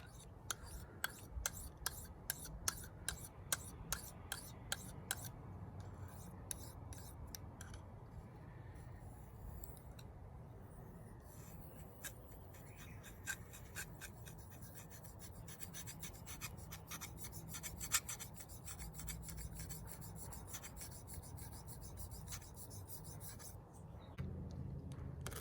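A knife is sharpened and polished on a whetstone with a diamond plate nearby, producing faint, rhythmic rasping strokes, quick and regular at first, then a steadier scraping grind.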